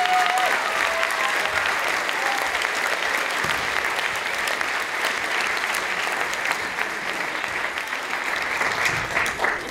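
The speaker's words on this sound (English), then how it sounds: "So let's give those guys a clap." A theatre audience at a stage production of Oliver gives a long round of applause for the crew. The clapping is loud and sustained for nearly ten seconds, with occasional sharper claps and no talking.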